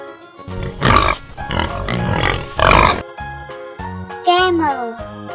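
Cartoonish pig oinks and grunts for a children's lesson on domestic animals, a run of short nasal calls over light jingly background music.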